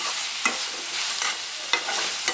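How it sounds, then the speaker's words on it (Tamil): Radish pieces sautéing in a pan over a medium flame for a vegetarian curry kulambu, giving a steady close sizzle broken by a few sharp scrapes and clicks of stirring. "மீடியம் ஃப்ளேம்லேயே வச்சுக்கோங்க. நல்லா பொறுமையாக வதக்கிக்கோங்க."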